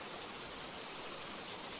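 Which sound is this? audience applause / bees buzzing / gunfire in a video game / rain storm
rain storm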